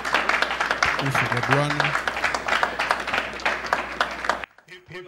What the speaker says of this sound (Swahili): Piga makofi, piga makofi.